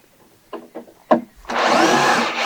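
A power drill backs screws out of wooden boards on a woodworker's raised garden bed, a few short bursts of clatter followed by a sustained loud whir close by.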